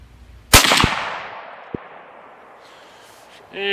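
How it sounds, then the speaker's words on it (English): A single loud rifle shot from a Ruger American bolt-action in 7.62x39, a sharp crack followed by a long fading echo, with a couple of faint clicks afterward and another noise starting at the end. "I think this will be shot number 4."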